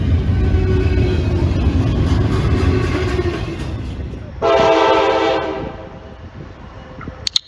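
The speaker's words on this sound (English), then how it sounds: "Right here we have CSX. Local freight train." A passing CSX local freight train rumbling close by, with a loud multi-tone horn blast for about a second midway as the wheel and engine noise continues, then fading.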